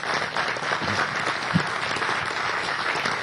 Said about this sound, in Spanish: los vamos a despedir con un gran aplauso